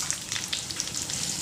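Onion fries in hot oil for an idli sambar tempering with a dense, even sizzle and hiss close up, and no voices are heard.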